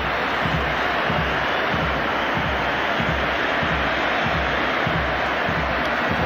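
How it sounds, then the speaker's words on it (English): Stadium crowd applauding and roaring for Lionel Messi at a 2010 Argentina versus Spain friendly, a dense, steady wash of noise that fills the whole stretch without pause. "Time for Lionel Messi to take his own personal round of applause"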